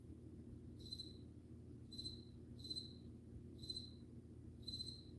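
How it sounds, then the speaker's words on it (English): Crickets chirp just outside a door in five short, evenly spaced bursts of high chirps over a faint low hum, quiet and with no talking. "that's more than one cricket standing outside that door"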